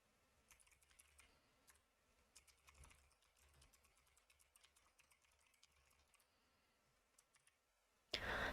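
Computer keyboard typing while text is entered into a digital photo album title, quick irregular clicks and key taps, fairly faint and close, ending in a brief louder burst.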